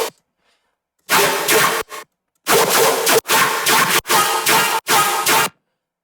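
A dubstep bass patch called Moonshot made in the Serum synth plays as loud, gritty, growling bursts, one short stab and then four sustained chunks with brief gaps between them, with no talking.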